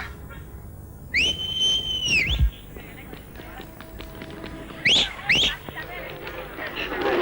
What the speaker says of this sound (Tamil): ஏய், நான் விசில் அடிச்சா போதும்.